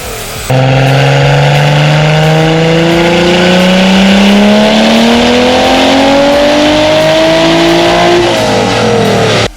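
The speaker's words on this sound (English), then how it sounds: "So in just 3 pulls, we were already climbing toward the 600 horsepower range and aiming for more." A Toyota Supra Mk3 with a stock-block 2JZ-GTE turbo engine screams through a dyno pull, its loud revving climbing steadily in pitch for several seconds before dropping off abruptly, no voices.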